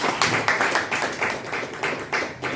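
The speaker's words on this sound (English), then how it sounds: "Round of applause, please." Clapping from a small Toastmasters audience, a modest group of hands giving uneven, rhythmic claps at fairly close range, moderately loud with no voices.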